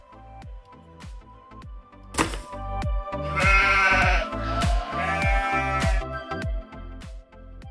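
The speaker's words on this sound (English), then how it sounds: "Sheep are domesticated animals raised on farms for the wool," A domesticated farm sheep bleats loudly a few times in wavering, nasal cries over a steady thumping rhythmic music beat.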